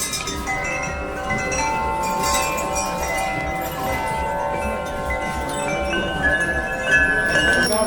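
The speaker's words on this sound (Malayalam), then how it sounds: "കുറേ മണികൾ പോലത്തെ സംഗതിയാണ്" Many bells ring together in a shop, a dense shimmering wash of overlapping sustained metallic tones that stays loud and steady.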